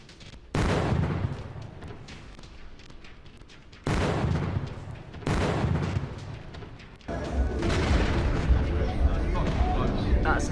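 Missile explosions shaking Dubai during an attack on the Jebel Ali air base, heard as several deep, heavy booms that rumble on and overlap, ending in a sustained loud roar.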